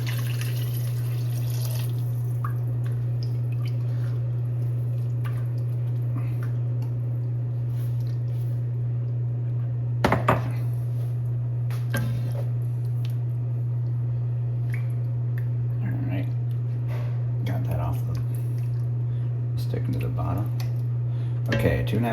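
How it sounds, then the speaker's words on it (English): Broth splashes and trickles into a cooking pot with soft wet drips and a few brief squishy bursts, over a steady low kitchen hum, while someone talks intermittently. "I better put in the broth."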